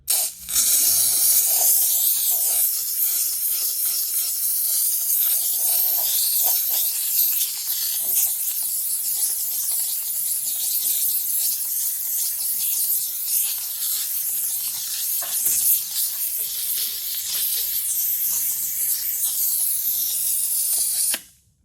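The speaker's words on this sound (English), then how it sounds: "with this trigger right here, that'll go ahead and put a blast of steam on out" McCulloch MC1275 canister steam cleaner blasts steam to strip grease, a loud, steady, close hiss running nearly unbroken before cutting off at the end.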